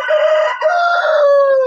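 A Goliath rooster crows loud and close in one long, drawn-out call with a brief break partway through, a clear farmyard crow heard alone.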